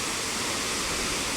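Waterfall near Pokhara, Nepal: a constant, loud, broadband rush of falling water, heard alone without pause.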